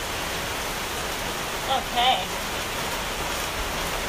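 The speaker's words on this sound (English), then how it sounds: "It's basically raining on the set." Steady rain falls on an outdoor set as a dense, even hiss that stays loud and constant throughout, with a brief spoken word over it.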